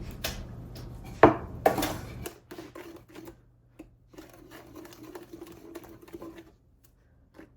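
Strawberry jam mixture being stirred in an enameled cast iron or stainless steel pot, with a couple of sharp clanks followed by a run of rapid, rhythmic scraping and tapping of a utensil against the pot.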